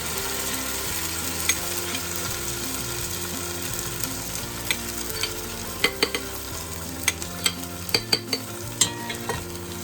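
Onions and pepper frying in palm oil, stirred with a utensil: a steady sizzle with repeated scraping and clinking strokes against the pot that grow sharper and more frequent toward the end, no voices.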